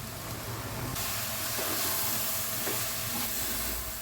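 Masala powder roasting in a hot pan, producing a steady, close hiss and sizzle that carries on unbroken for the whole stretch, with no talking.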